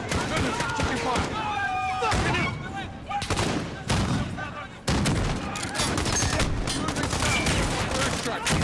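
Heavy gunfire fills a Call of Duty Modern Warfare mission as rapid automatic bursts and single shots crack loudly over a continuous battle din. Speech and radio chatter are partly audible underneath.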